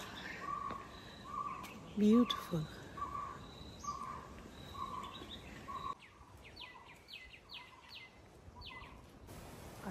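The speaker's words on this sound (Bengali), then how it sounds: "পাখির আওয়াজ শুনতে পাচ্ছ?" Birds sing outdoors in scenic open country, repeated clear whistled notes and quick high chirps at moderate distance, with a brief spoken voice near the start.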